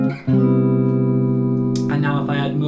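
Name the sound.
jazz guitar chord melody phrase with passing chords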